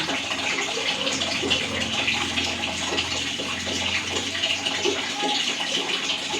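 Soapy clothes being scrubbed by hand in water, a steady sloshing and swishing that continues without pause throughout, close and moderately loud, with no talking.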